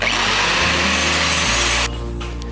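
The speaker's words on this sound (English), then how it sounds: "we're going to clean up all this rust and mill scale and all that" A power tool, likely a grinder or sander, runs steadily to clean rust and mill scale off a 1/8-inch by 1.5-inch bar of 15N20 steel. The loud, continuous whine shifts pitch partway through and then eases slightly near the end.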